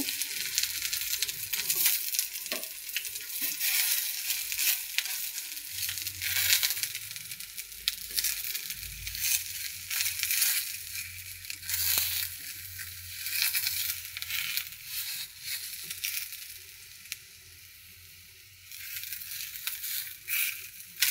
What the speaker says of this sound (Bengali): এখন বেগুনগুলো আমি ভেজে নেব।